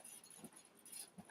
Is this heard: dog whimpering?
yes